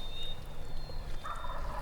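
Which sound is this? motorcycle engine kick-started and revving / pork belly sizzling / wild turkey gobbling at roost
wild turkey gobbling at roost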